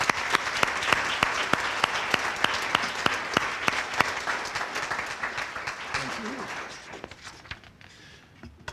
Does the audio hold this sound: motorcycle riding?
no